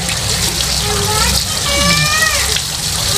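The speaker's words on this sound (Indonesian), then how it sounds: "semprot pakai air mengalir sampai bersih" Running water sprayed to rinse the ink-flooded parts of an Epson L120 printer, a steady close hiss and splash throughout, with a voice talking over it.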